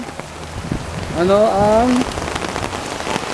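Heavy rain pounds down on surfaces outdoors, a loud, dense and continuous hiss throughout, with a voice briefly speaking over it midway.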